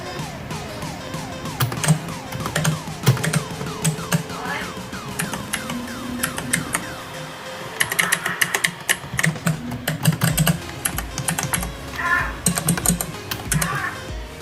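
Typing on a T-WOLF T20 RGB backlit gaming keyboard, with rapid, irregular key clicks close up throughout and brief bursts of faster strokes under a steady background hum.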